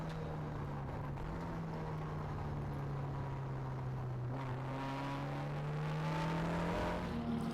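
Historic race cars lapping the Nogaro circuit, a steady loud engine roar that holds through the run and climbs in pitch and volume toward the end, with no voices.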